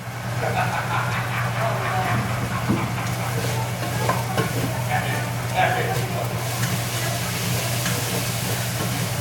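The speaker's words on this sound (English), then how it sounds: "come back with our flour and butter to make a rouge here" Flour and butter cooking into a roux for broccoli cheese soup, a steady sizzle with repeated stirring scrapes in the pan and a constant low hum underneath throughout.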